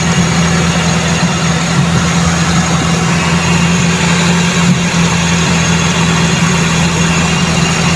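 A Toyota 4AF carburetor engine idles steadily at close range, a continuous even hum and drone with no audible change in pitch and no talking.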